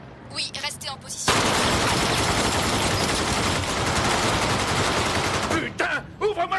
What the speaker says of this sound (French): On vient encore de tirer des coups de feu dans la banque.